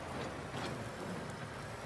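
Steady rain in Farming Simulator 19 on an old valley farm in autumn, a continuous close hiss of falling drops with no talking.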